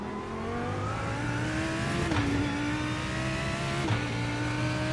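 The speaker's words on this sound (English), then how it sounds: "I do love the way this car sounds" A GT3 race car in a racing video game at Sebring, engine revving steadily with rising pitch and two quick gear shifts, loud, continuous and close, no voices.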